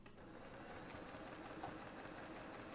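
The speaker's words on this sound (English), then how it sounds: "So I'm going to get rid of it and I'm going to keep sewing." A sewing machine runs steadily while quilting fabric, giving a continuous, even mechanical whir with a fast, regular needle ticking. It is fairly faint and close, with no talking.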